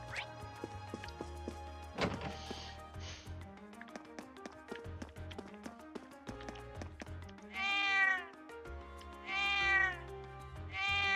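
Cats meow in Trails of Cold Steel, in the town of Heimdall, over melodic game music with light tapping. Two drawn-out meows come late, clear and fairly loud against the soundtrack.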